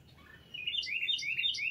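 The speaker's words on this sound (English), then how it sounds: "you hear all the birds and stuff out here." Several small birds chirp and trill in quick, high overlapping bursts outdoors, fairly close, with no voices.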